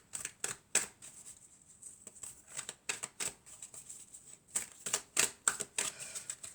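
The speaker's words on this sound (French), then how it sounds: "je vais tirer quelques cartes du toi et moi" Cards from a love tarot deck are drawn and shuffled, producing a string of quiet, crisp flicks and snaps at irregular intervals, close and faint with no talking.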